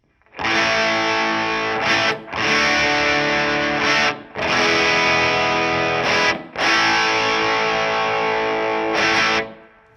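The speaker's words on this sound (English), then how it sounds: "So let's check out this single coil dogear P90." A distorted Epiphone Les Paul Junior electric guitar with a dogear P90 single-coil pickup strums sustained chords, four long ringing strokes separated by short gaps, loud and gritty with no voices.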